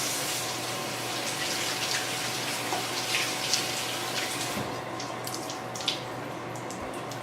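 Celery being rinsed under a steadily running kitchen tap, the water a continuous close hiss with small splashy variations as the stalks are turned, with no talking.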